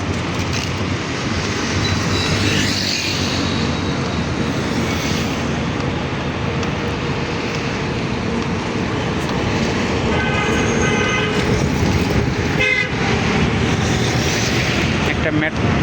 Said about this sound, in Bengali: একটা ট্রেন আসছে, সাউন্ড পাওয়া যাচ্ছে।